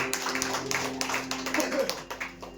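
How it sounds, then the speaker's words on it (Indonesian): A church congregation claps together in a dense, steady rhythm of overlapping hand claps, with a sustained musical hum running underneath. "tepuk tangan dulu buat Tuhan Yesus"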